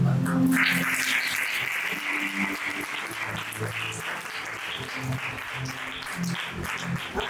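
A church festival congregation claps together in sustained applause, loud at first and then tapering off, with a voice heard faintly underneath.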